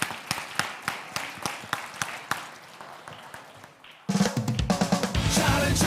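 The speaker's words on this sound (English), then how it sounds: "Please applause for Martin." Audience applause for a nominee taking the stage at a live developer awards event, sparse claps at first, then a dense, louder burst of clapping and crowd noise in the last seconds.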